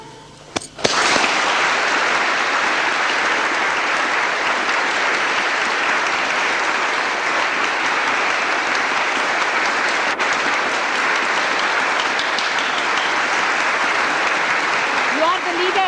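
Applause from a gathered audience of Sahaja Yoga followers at a program held in a castle in France, starting with a few scattered claps and then swelling into a sustained, loud, even roar of clapping that carries on alone without pause.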